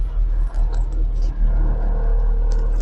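Engine of a manual car fitted with a motor-operated clutch for driving without legs, a steady low rumble heard from inside the cabin as it runs through the gears, with small dips in level.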